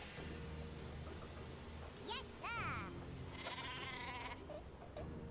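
Cartoonish sheep bleats from the video game Worms: Clan Wars, a few wavering cries rising over busy game sounds and background music.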